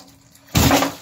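A water heater element blows out under pressure as a sudden loud whooshing burst after a quiet hum, close and abrupt, with a rushing, watery hiss.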